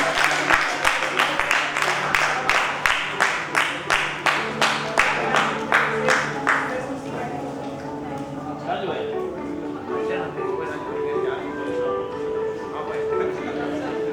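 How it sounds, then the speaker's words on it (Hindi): Audience at an awards ceremony for honorary doctorates claps in steady rhythmic unison for a recipient, the beat holding for several seconds before giving way to music and voices. "Ladies and gentlemen, तालियां बनती है यहाँ, जोरदार तालियां"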